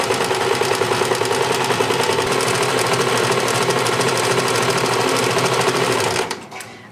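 Sewing machine running steadily, stitching fabric piping tight against cording for a custom slipcover, a loud continuous rapid mechanical whir that stops abruptly near the end.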